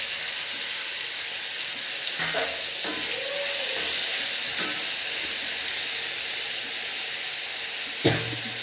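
Food sautéing in a frying pan gives a steady sizzling hiss throughout, with a few brief scraping stir sounds and a sharp knock near the end; no talking.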